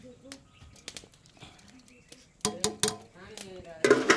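A metal pot holding ground green chilli paste for Agniastram natural pesticide is mixed and covered with a lid, giving scattered light clinks that build into louder metallic clatters near the end.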